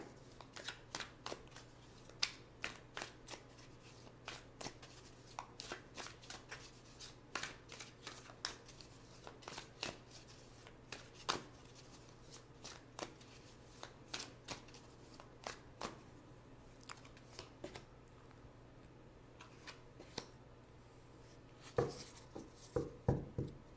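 Tarot cards are shuffled and drawn close up, a long run of quiet crisp riffles and slaps with soft rustling in between, ending in a quicker flurry of card handling.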